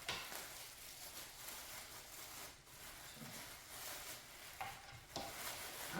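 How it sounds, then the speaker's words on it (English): Breakfast frying in a pan on a home stove, a steady close sizzle with scraping stirring strokes running throughout and a couple of sharper clinks near the end, with no voices. "I'm cooking breakfast for everyone in the house."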